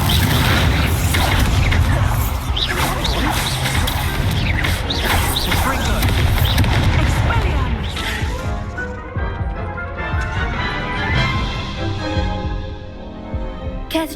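Incendio fire spell cast in Hogwarts Legacy: loud, dense crashing and booming bursts of magical fire and impacts that churn for several seconds before thinning into a ringing, fading tail.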